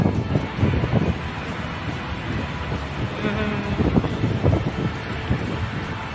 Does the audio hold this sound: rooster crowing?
no